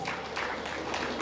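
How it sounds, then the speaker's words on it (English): Applause from an audience at an award night for event and party vendors, a steady dense wash of clapping filling the short stretch at even loudness. "Please, let's give ourselves a round of applause."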